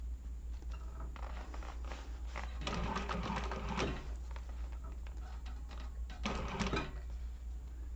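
A sewing machine stitches a seam with a zipper foot on a Zip-N-Grip project, running in steady mechanical bursts with louder busy stretches around the middle and near the end, alone without talk.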